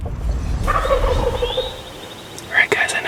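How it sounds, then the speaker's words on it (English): A wild turkey gobbler lets out one rattling gobble within about 100 yards in the dark before dawn. It sounds moderately distant and clear over a low outdoor rumble, and a faint bird call follows near the end. "I got a gobbler within 100 yards, gobbling his head off"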